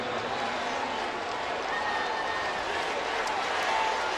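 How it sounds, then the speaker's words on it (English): A steady wall of crowd noise fills a football stadium at the 2014 SWAC Championship between Alcorn State and Southern, a broad, even roar of cheering with no break. "Listen to this crowd get into it."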